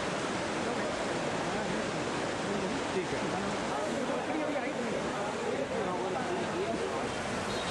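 Heavy, continuous roar of the flooded River Ganges rushing after incessant heavy rain, a dense, steady broadband wash of water with no breaks.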